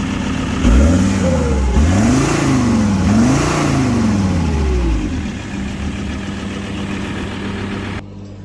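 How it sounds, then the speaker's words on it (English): Turbocharged engine with its DPF drilled out revving up and down several times in close succession, the pitch climbing and falling in repeated swells with an audible turbo whistle, then settling back to idle. "hear that turbo. Sounds quite good."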